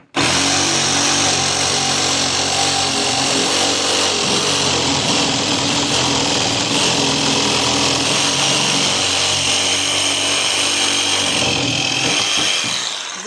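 A Ryobi jigsaw cuts through wood straight off the edge, a loud continuous buzzing whine with a steady rattling blade that runs unbroken for over twelve seconds before winding down.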